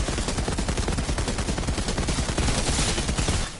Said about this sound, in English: I'm just barely pulling back on the trigger just to group up those shots